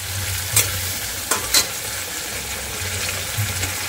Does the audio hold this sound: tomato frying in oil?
yes